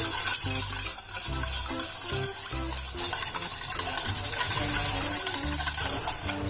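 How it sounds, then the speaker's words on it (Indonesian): A utensil stirs a milk and sugar mixture, scraping and swirling around a container in quick, rhythmic strokes, a steady clatter close by with no voices. "kemudian diaduk sampai"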